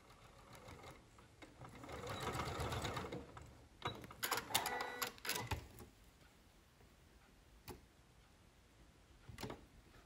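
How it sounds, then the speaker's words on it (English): A sewing machine stitches across the bottom seam of a small fabric bag charm, a close, quiet burst of fast mechanical whirring and ticking that stops and starts with short pauses and isolated clicks. "Stitch together across the bottom seam of the outer."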